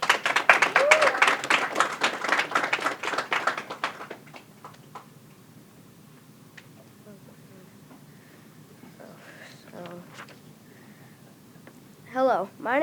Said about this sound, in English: let's give Dominic a round of applause